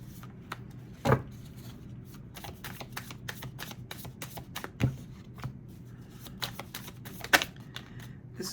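A tarot deck is shuffled by hand for a Capricorn reading, producing steady soft papery riffles and taps with a few sharper snaps spaced several seconds apart, close and with no voice.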